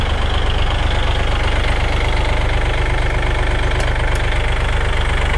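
A 2019 Kubota L4018 tractor with a front dozer blade and three-disc plough idles with its engine bay open, a close, steady, knocking diesel chug with no talk over it.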